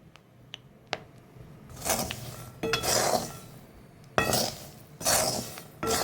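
Peanuts roasting in a pan give a few sharp, isolated pops, followed by loud bursts of rattling and scraping as they are stirred.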